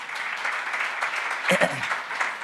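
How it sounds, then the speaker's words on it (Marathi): A Sunday Mass congregation in a Pune church claps together in steady, even applause, and a voice briefly cuts in partway through. "टाळ्या वाजवूया आपण लाजारासाठी."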